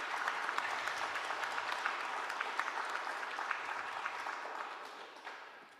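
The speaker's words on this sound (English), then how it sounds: "we will applaud for that" Conference audience applauds after a talk on ageing policy, a steady, moderately distant wash of clapping from many hands that fades out over several seconds.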